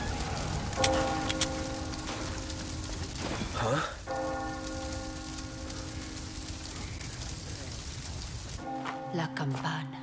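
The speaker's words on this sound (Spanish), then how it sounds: "La campana." Church bells ring in heavy rain in the Resident Evil 4 Remake video game, sustained tolling strokes over a constant downpour, with a brief loud swell midway and a few voices briefly underneath.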